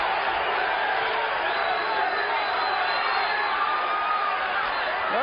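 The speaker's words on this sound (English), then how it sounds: "The crowd is chanting USA," Spectators at a 1995 no-holds-barred fight between Oleg Taktarov and David "Tank" Abbott chant USA, a loud, dense crowd roar filling the arena steadily throughout with no clear gaps.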